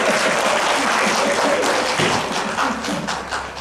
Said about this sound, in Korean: 박수하려면 똑바로 박수.